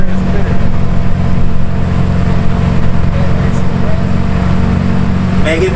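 A BMW E46 with a Megan Racing header, stock mid-pipe and Vibrant rear exhaust rumbles loud and close at a Melbourne BMW meet, a steady deep engine drone with crowd voices mixed in.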